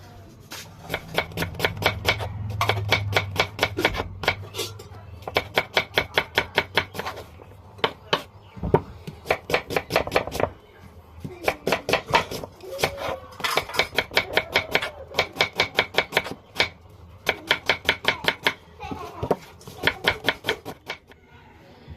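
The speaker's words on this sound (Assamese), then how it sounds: "এতিয়া কাটিম পিঁয়াজ" Onions being chopped with a knife on a board, a fast, even run of crisp close taps in bursts with short pauses between, loud and steady.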